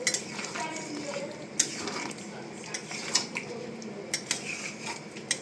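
Metal pot lid and utensil clinks on a cooking pot of chicken and potatoes, a series of sharp, close taps and scrapes over a low kitchen background hiss.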